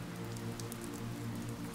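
Steady rain falls on a surface in a soft, even patter with scattered drops, continuous and close, with no voices.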